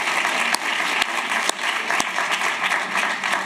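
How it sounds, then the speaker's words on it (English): Applause from an audience at an early education innovation pitch event, warm and continuous clapping held at an even level with a few sharper individual claps standing out. "Can we get another round of applause,"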